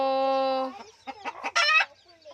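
Chickens clucking close by, with a long steady crowing-like call followed by a run of short, uneven clucks and squawks, fairly loud and clear.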